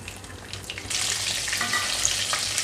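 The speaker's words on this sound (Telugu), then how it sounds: "వీటిని ఇందులోకి ఆయిల్లో వేసి వేయిస్తున్నాను." Cleaned, cut pieces of dry fish sizzle and fry in hot oil in a home kitchen, a steady close hiss that swells louder partway through as the pieces settle in.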